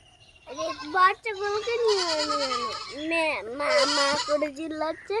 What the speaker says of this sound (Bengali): দেখো অনুপ কাকু মাঠে ছাগল নিয়ে যাচ্ছে